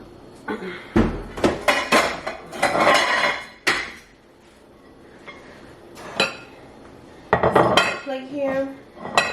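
Plates and dishes clink and clatter in a home kitchen as one is fetched, several sharp close knocks in bursts separated by a short quieter pause.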